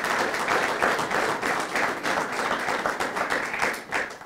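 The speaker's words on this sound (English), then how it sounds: "Let's give him another round of applause." Audience applause at an outdoor Pearl Harbor remembrance ceremony in Oshkosh, Wisconsin: steady, dense clapping from a sizable crowd holds at an even level throughout, with no speech over it.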